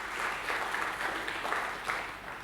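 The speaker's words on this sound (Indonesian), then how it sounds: "Berikan tepuk tangan bagi dia" A church congregation at a Sunday service claps together in a steady, moderately loud burst of applause that holds for the whole stretch with small swells and no voices standing out.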